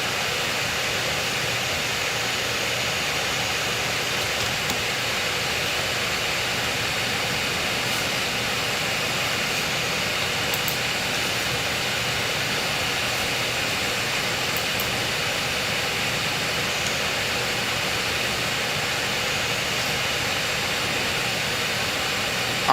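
Steady, broadband roar of Airbus A320neo jet engines while taxiing in Microsoft Flight Simulator 2024, a constant hiss-like drone with no pauses from start to finish.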